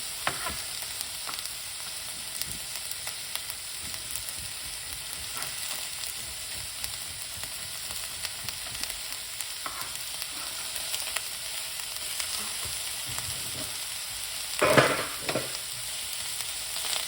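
Peppers sizzle steadily in a hot pan while being stirred, a continuous close frying hiss with scattered scraping and clinks from the utensil, one louder scrape near the end.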